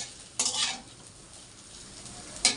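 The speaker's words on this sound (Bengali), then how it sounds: "আর এই হচ্ছে আলু ভাজা" Potatoes frying in a pan in a home kitchen, a steady soft sizzle broken by two louder stirring scrapes, one near the start and one at the end.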